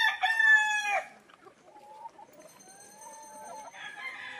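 Gamefowl roosters crow at a game farm, one loud close crow at the start followed by fainter, more distant crows and clucks, with no talk.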